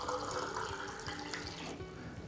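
Water runs steadily from a tap into a sink, a close, fairly quiet stream with a bubbling splash that shifts in tone partway through.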